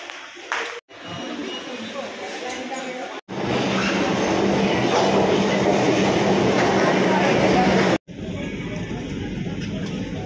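A Kolkata metro train runs on its rails, a loud continuous rumble and rattle broken by a few brief cuts, with no talk.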